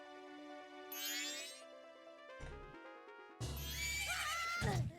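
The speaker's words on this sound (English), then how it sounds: "Oh no, you scared my horse." A horse whinnies loudly near the end, a high shaky neigh over game music with chimes and a low thump, in The Legend of Zelda: Majora's Mask.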